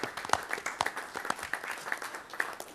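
Scattered hand clapping from a small audience at a Fargo city commission meeting, fairly quiet and sparse, with individual claps standing out over a soft room background.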